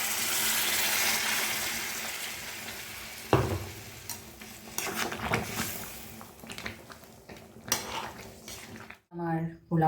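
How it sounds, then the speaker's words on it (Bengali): Hot water added to chicken kosha frying in a pan: a sizzling hiss with spoon scrapes and clinks against the pot, then sharper bursts of bubbling and stirring toward the end. "গরম জল দিয়ে দিচ্ছি।"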